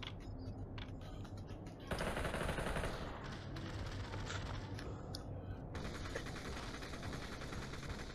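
Gunfire in the virtual reality shooter Population One, a dense continuous rattle of automatic weapons at moderate volume, with bursts swelling and easing over a steady wash of game noise.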